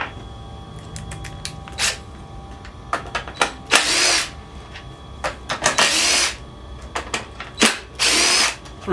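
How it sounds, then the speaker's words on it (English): A small power driver fitted with an 8 mm bit whirs in several short bursts, backing screws out of a Weedeater push lawnmower, with quiet clicks and handling noises between runs. "Let's get our 8 millimeter back on the little driver."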